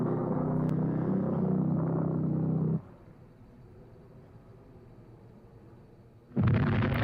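A World War II bomb drops and explodes: a loud sustained roar, then a quiet stretch, then a sudden heavy blast at the end.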